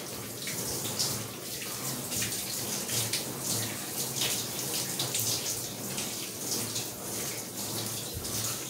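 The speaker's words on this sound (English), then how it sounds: "I'm basically letting the water get to temperature right now" Water runs steadily from a tap into a bathtub as it warms before a dog's grooming bath, a constant close splashing rush with no pauses.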